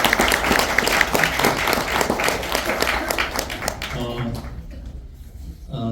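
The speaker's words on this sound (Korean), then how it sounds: "동의하시면 박수 좀 부탁드리겠습니다" An audience applauds after a film screening, dense and loud clapping that thins and fades out toward the end, followed by a speaker's voice.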